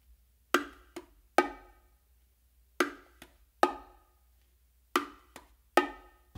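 Bongos played with the hands, an open tone from the dominant hand on the macho paired with a quick palm or thumb hit, the combination repeating four times with sharp ringing strikes and short decays, close and alone.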